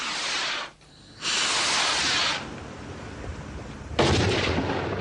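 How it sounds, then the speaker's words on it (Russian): Firework rockets packed with rice balls set off a chain reaction of loud, hissing, crackling rushes. The bursts come in close, broadband waves with a brief lull between them. "При поджоге ракеты получится красочная цепная реакция, когда каждая волна рисовых шариков будет зажигаться от детонации предыдущей."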